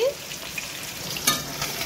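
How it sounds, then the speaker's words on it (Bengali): Small fish rubbed with salt and turmeric frying in a pan of hot oil, a steady close sizzle with a brief sharper crackle near the middle, no talking. "এই দেখো ফিশটা নুন হলুদ মাখানো হয়ে গেছে, ভাজাও বসিয়ে দিয়েছি।"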